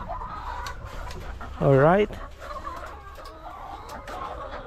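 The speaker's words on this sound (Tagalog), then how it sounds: "At nandiyan na yung mga manok ko." A single rising cluck-like call from a chicken stands out briefly amid low background noise and a short spoken word.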